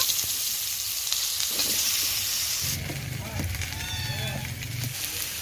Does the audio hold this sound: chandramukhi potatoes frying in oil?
yes